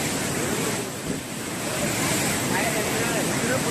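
Water rushes out through the opened crest gates of a flooded dam in Anantapur, Andhra Pradesh, a steady dense roar with wind noise and no distinct breaks.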